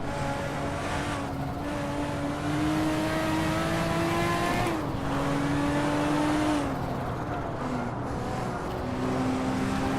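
Race cars in a Hot Wheels video game: a steady, fairly quiet engine drone with a whine that climbs as they accelerate, a shift in pitch around the middle, and brief revving surges.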